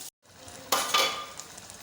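Tinda gourd and mutton being fried (bhuna) in a pot, a soft close sizzle that briefly cuts out, then a louder burst of frying near the start that slowly fades, no talking.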